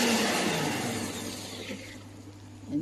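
A blender whirs loudly as it blends pesto with olive oil into a smooth paste, a steady motor roar that slowly eases and thins before a brief bump at the end, with no talking.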